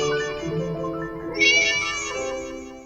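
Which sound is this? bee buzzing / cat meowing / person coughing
cat meowing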